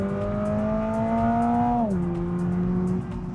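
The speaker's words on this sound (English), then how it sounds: "it opens up that exhaust" A 2022 Toyota GR86's engine drones loudly with a steady exhaust roar, then its pitch drops abruptly and keeps running at a lower, rumbling note.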